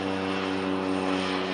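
Steady propeller drone of a float plane passing overhead near a harbor fishermen's terminal, a continuous engine hum with no talking.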